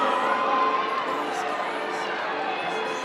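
Crowd cheering and shouting at the Penn Relays Carnival during the final 100 meters of a women's race, a steady dense roar of voices with children's shouts, loud and continuous throughout.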